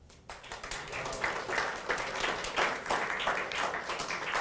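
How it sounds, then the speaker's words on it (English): An audience applauds during a motivational talk on money, a steady wash of many hands clapping that stays fairly level for several seconds without speech. "A round of applause."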